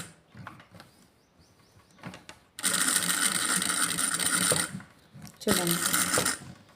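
A sewing machine stitches along buckram for a blouse neck design, running in two loud, steady whirring bursts separated by a brief pause, with a short spoken word and quieter handling sounds before it.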